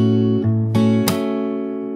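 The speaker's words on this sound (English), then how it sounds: "And then you slap and ring the chord." A fingerstyle acoustic guitar plays a bass note and upper strings, then a sharp percussive slap on the chord that is left to ring out and slowly decay, close and alone.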